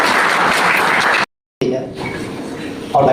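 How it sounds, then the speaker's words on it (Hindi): An audience at a psychology professor's talk applauds loudly in a dense, steady roar. The applause breaks off abruptly, and quieter room sound follows. "so we take big round of Tali,"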